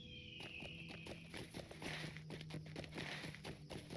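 Rhythmic clip-clop of a horse's hooves trotting in the Lord of the Rings Online video game, evenly paced and fairly close, with a faint game ambience beneath.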